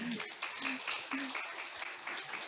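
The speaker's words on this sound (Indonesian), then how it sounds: "Sekali lagi berikan tepuk tangan yang paling meriah." Applause from a church congregation at a Sunday worship service in Tabanan, a steady dense patter of clapping throughout with brief voice-like tones mixed in.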